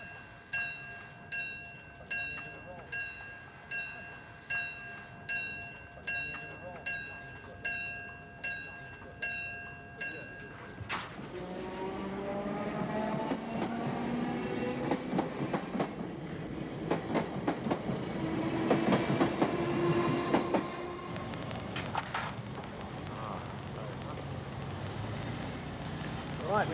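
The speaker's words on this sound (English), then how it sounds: "That means the barrier's going to come down in a moment because there's a train coming." A train approaches and rushes past a level crossing, opening with steady repeated warning bell or alarm tones, then a loud rumble and rail clatter that builds and stays close for the rest of the passage.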